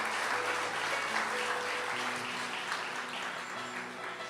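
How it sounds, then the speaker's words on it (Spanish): Church congregation applauding a brother who helped, a fairly quiet, steady wash of many hands clapping together in a hall, sustained for several seconds with a faint tonal hum underneath. "Démosle un aplauso a nuestro hermano que nos ayudó."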